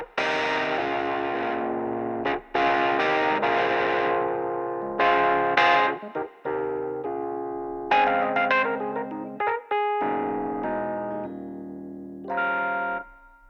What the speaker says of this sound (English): it's got this alt tone setting that can give you more of like kind of a radio sound.